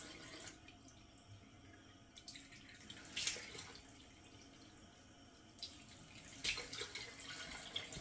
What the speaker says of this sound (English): Turning on the cold water.